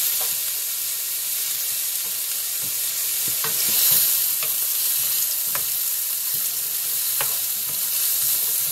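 Chopped onion sizzles and fries steadily in a pan for curry chicken, with intermittent scraping stirs of a utensil across the pan, close and clear with no one talking.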